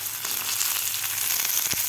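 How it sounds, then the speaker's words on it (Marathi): Chopped garlic, green chilli and curry leaves fry in hot oil in a pan, producing a dense continuous sizzle with a brief crackling pop near the end. "व्यवस्थित आपल्याला हे फ्राय करून घ्यायचं आहे."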